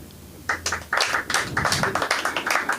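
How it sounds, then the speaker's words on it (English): A small comedy-show audience claps, a scattered handful of hands tapping out uneven bursts that swell briefly and then trail off, close and fairly loud. "Applaud if you like the Ukrainians."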